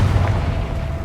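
The Confringo blasting curse from Hogwarts Legacy going off as a short, deep, booming explosion with a rumbling low-end burst and no voices over it.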